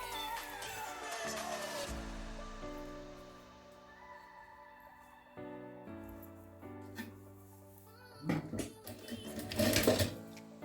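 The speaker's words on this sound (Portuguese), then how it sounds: "Começo aqui a costurinha." A sewing machine sews a jute placemat, its motor whirring in steady runs that start and stop, close by, followed by louder clunks and rattles of handling near the end.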